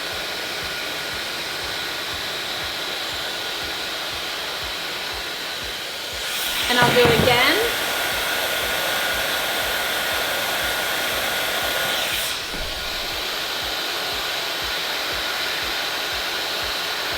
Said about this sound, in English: get my blow dryer, and I'm gonna hold this right in here and start spinning